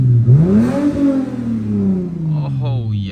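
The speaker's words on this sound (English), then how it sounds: "Just give you guys some little exhaust notes before we go." A 2006–2012 Lexus IS 250 with automatic transmission revs its engine, the exhaust note climbing and settling in a smooth sweep, close and fairly loud, with a voice briefly audible near the end.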